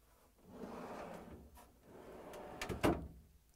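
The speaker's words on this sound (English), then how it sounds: "And now I'm going to pull out the drawer." An LG/Kenmore refrigerator's freezer drawer slides out on its runners with a smooth rolling rumble, then a sharper clack and rattle as it reaches the end of its travel, heard close up.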